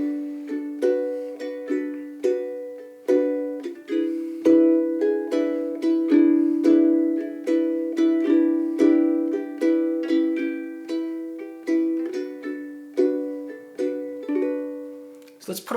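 Bossa nova rhythm on ukulele, with thumb and index upstrokes through a chord progression. Crisp, bright plucked chords repeat in a steady syncopated pattern, close and clear, with no voice.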